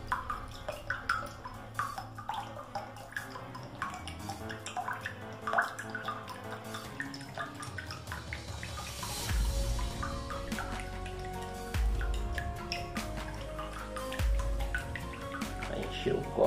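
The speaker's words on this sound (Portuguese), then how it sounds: "O tamanho do coco, encheu o copo de água." Coconut water drains from a whole coconut into a glass, a faint trickle and drip that grows fuller midway, with people talking over it.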